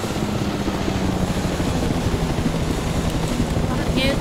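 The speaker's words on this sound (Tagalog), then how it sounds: "Ay, yung helicopter." Helicopter arriving near a mountain peak, a steady loud rotor and engine drone mixed with heavy wind rumble throughout, with no clear speech.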